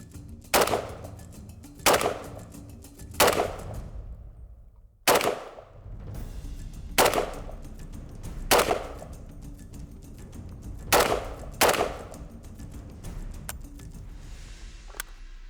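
A Polish AK rifle chambered in 7.62x39 fires about nine sharp, loud, separate shots in an irregular rhythm, some in close pairs, each ringing briefly against a quiet background.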